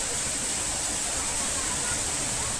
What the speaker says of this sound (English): This is the small waterfall.